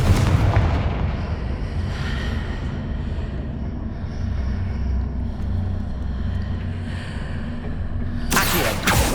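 Confringo fire-blast spells in Hogwarts Legacy: a dense, rumbling barrage of booming explosions that runs continuously, with a sharp burst near the end.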